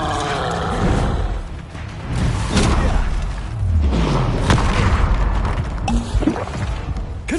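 Booming blast of the Bombarda spell in the Hogwarts Legacy video game, loud heavy thuds and crashing explosions rolling over a dense, busy mix of combat effects.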